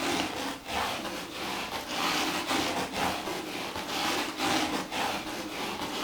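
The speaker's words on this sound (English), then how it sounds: "I'm just going to get the other brush and I'm just going to scrape it on the top of my bowl" A jazz drum brush scrapes across the top of a bowl in a continuous, steady, close swishing rasp with slight rhythmic pulses. No one speaks.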